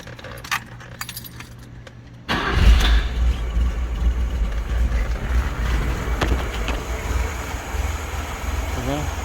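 A 1976 Fiat Spider engine with old gas in the tank and no cooling fans cranks and catches abruptly, then settles into a loud, steady, slightly rough idle; keys jangle briefly beforehand.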